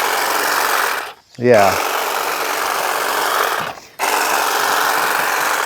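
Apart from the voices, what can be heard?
Saker hedge trimmer cutting grass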